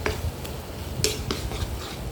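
A spoon stirs ginger-garlic paste in a pan in a short burst of close scraping and clinks over a faint sizzle, with no voices.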